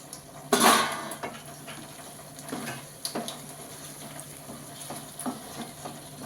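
A lid clanks loudly off a pot of chukkakura chicken curry, followed by a string of lighter metallic taps and scrapes as a utensil stirs inside the pan, close and clear with no talking.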